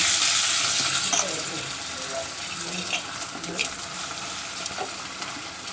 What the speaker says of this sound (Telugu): ఇప్పుడు ఇలా కలుపుకుంటూ ఒక రెండు నుంచి మూడు నిమిషాల పాటు ఫ్రై చేసుకుందామండి